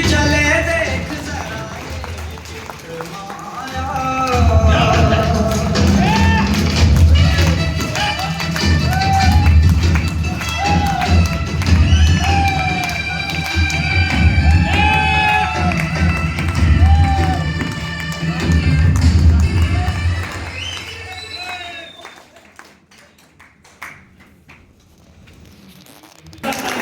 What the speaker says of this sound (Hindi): इन सब लोगों के लिए एक बार जोरदार ताली बजाओ